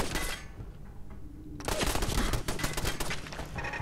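Turrets firing in Fallout 4, a short burst of automatic fire, then a pause, then a louder, longer stretch of rapid shots, all fairly quiet in the mix.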